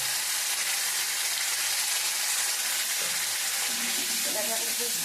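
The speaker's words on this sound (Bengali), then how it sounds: "আমি এর মধ্যে দিয়ে দেব আদা, রসুন আর কাঁচা লঙ্কা পেস্ট।" Ginger, garlic and green chili paste frying in hot spiced oil, a steady close, bright sizzle that holds evenly throughout with faint stirring clinks near the end.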